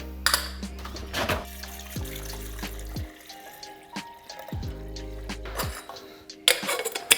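Water runs from a tap in bursts, splashing into a container, with clinks of dishes and handling noises between pours, close by.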